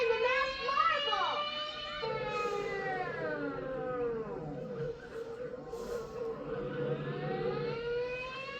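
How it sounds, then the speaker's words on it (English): A cartoon ambulance siren from a Charlie Brown animated special wails in rising and falling sweeps across the whole stretch, loud and continuous, with children's voices talking over it. "Here comes the ambulance."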